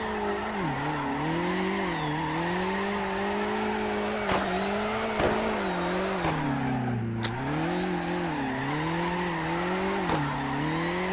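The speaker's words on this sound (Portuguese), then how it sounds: "que carrinho estranho de fazer drift" Steady engine drone and continuous tire squeal from a car drifting on a city map in CarX Drift Racing, with the engine pitch swaying as the car slides, plus a few sharp clicks.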